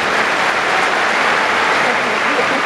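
Steady, dense applause from a large crowd at a pre-game baseball stadium ceremony honoring national team players, a continuous loud roar of clapping without pause.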